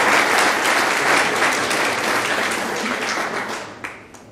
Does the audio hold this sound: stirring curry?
no